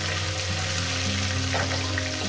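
Tomatoes fry in hot oil with cumin and bay leaves, giving a continuous close sizzle that stays even throughout with a faint low hum beneath.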